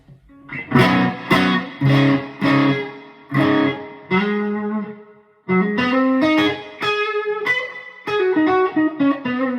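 Distorted electric guitar chords strummed in rhythmic bursts through a TC Electronic Hall Of Fame Mini reverb pedal, with a washy reverb tail ringing after each phrase, loud and close.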